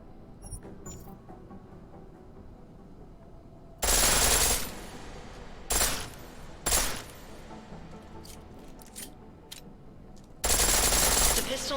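A pistol set to full auto in Deus Ex: Mankind Divided fires in four loud, rapid bursts, each a second or less, with quiet gaps between them over a low background.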